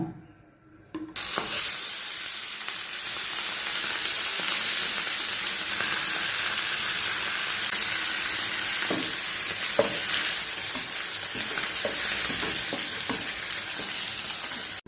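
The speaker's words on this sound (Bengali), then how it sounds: "কড়াইতে তেল দিলাম" Oil in a wok heats for frying turmeric- and salt-rubbed hilsa fish, giving a loud, continuous sizzle and hiss that starts suddenly and holds steady with small crackles throughout.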